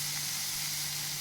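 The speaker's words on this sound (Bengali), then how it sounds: "লঙ্কা টমেটো ভাজছি" Chili and tomato frying in a pan give a soft, steady sizzle and hiss, low and even throughout with no talking, alongside a faint constant hum in the background.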